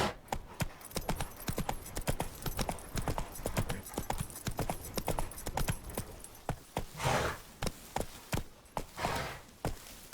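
The horse Roach gallops in The Witcher 3, its hooves drumming a fast, steady clip-clop rhythm close by, with a louder gust of wind or motion swelling briefly in the middle.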